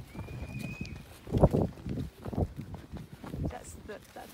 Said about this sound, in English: That's the horse in front of her